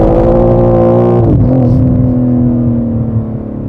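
A car engine drones loudly and steadily, its pitch dropping as the revs fall partway through, then holding a lower idle-like hum.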